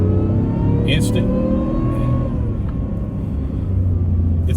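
An 805 hp truck accelerates as the gas is pressed: a loud, close engine drone with a rising rev note and heavy low rumble throughout.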